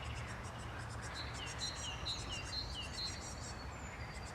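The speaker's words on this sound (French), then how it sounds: "On est bien accompagné par les oiseaux dans notre travail du jour." Birds sing outdoors in quiet surroundings, repeated short chirps and whistled tweets at a gentle distance over a soft, steady background hiss, with no talking.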